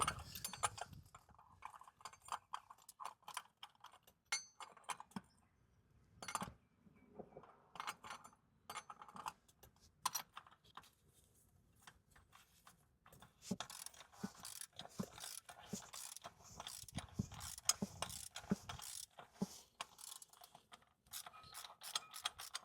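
A socket wrench loosens the oil filter cartridge housing on a Toyota Highlander V6 during an oil change, giving quiet, close bursts of ratcheting clicks separated by short pauses, with no voices.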